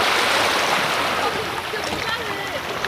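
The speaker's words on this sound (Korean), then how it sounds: "파도가 잔잔하게 치는구나." Calm sea waves washing onto a clean beach at Pohang, a continuous soft rushing wash of surf heard close and steady with no voices.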